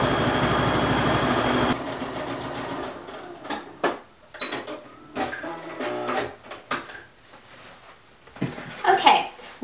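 A sewing machine runs steadily at first, stitching fabric pieces for a baby girl's criss-cross pinafore dress, then stops and gives way to handling noises, clicks and short bursts of activity with a voice speaking intermittently.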